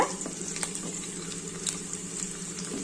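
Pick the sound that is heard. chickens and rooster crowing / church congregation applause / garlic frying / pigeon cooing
garlic frying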